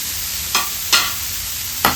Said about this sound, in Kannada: ಎರಡೇ ನಿಮಿಷ ಫ್ರೈ ಮಾಡ್ಕೋಬೇಕು